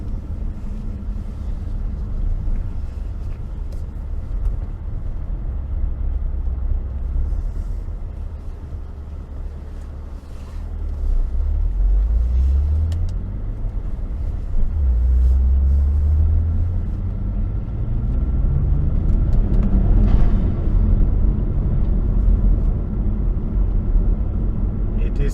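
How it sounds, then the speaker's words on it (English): Saab 9-3 Turbo X with an eSID3 tune, downpipe and mid-pipe work, pulling hard under load, a steady close rumbling drone that climbs in waves of rising pitch as it accelerates, with no talk over it. "So we can try to go around and do another pull."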